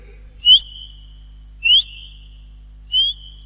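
A human voice imitates the whistle call of a dhole, or Indian wild dog: three clear, high, slightly rising whistles spaced about a second apart against near silence.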